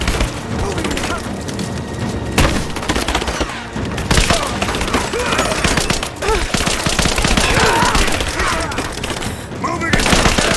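A loud firefight in Rise of the Tomb Raider, with rapid overlapping gunfire, cracking impacts and splintering wood filling about ten seconds, while soldiers shout under the shooting.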